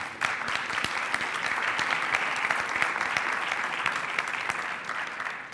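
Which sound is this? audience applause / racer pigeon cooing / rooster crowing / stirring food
audience applause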